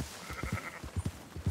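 Sheep in Red Dead Redemption 2 give several short, low bleats in quick succession, fairly near, over faint game ambience.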